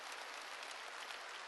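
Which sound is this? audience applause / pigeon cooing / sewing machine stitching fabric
audience applause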